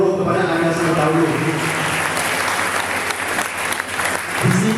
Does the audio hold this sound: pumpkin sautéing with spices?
no